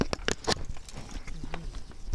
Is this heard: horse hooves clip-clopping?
yes